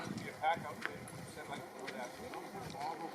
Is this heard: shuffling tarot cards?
no